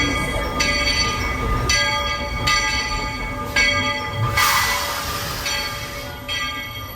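A Walt Disney World Railroad train at the Magic Kingdom pulling into its station, with a rumbling engine, squealing wheels and repeated bell clangs over a steady mechanical drone.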